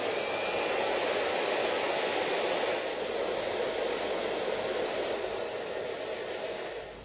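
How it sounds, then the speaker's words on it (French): A hair dryer blows on a twisted strand of hair, a steady close rushing whoosh of airflow with a motor hum. It runs alone for about seven seconds and eases slightly toward the end. "on met en route le sèche-cheveux, ce qui va permettre à la mèche d'avoir une légère ondulation"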